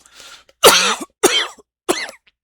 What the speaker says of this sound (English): Oh, I got a bad cough.